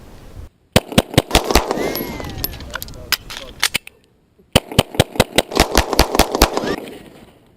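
Handgun shots fired in rapid strings during a speed reload drill, two bursts of sharp, loud cracks separated by a brief pause for the magazine change, with metallic handling noises between.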